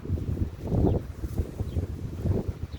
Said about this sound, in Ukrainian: Тільки такий вітер, навіть не знаю, буде гарно чути чи ні